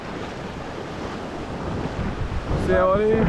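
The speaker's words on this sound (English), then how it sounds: "That's some big waves today, boy." Big ocean waves at Trinidad's 100 Steps Beach, a steady roaring surf wash with wind buffeting the microphone, swelling louder toward the end as someone speaks briefly over it.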